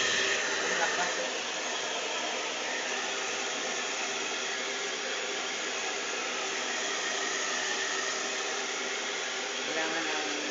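Newly unboxed hair dryer blower running at speed, a loud, steady close-up whoosh of rushing air that continues unbroken throughout.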